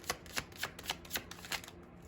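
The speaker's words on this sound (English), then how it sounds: "I love these little cards. They're so fun to shuffle." Small tarot cards shuffled by hand in a rapid riffling rhythm, about six quick crisp bursts of card flutter, close and fairly quiet with no talk.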